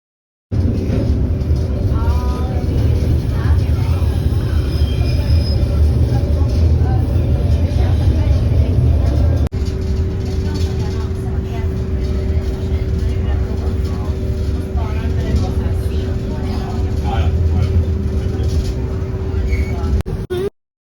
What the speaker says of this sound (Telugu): ట్రైన్ అయితే ఫుల్గా స్టార్ట్ అయింది.